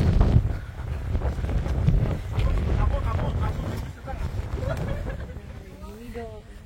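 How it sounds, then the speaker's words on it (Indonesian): Strong wind buffets the microphone on the Merbabu mountain savanna, roaring low and gusting unevenly up close while people talk through it. "Pernah dengar Sabana Merbabu itu anginnya parah, tapi nggak kebayang kayak gini"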